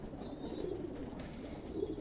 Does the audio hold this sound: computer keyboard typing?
no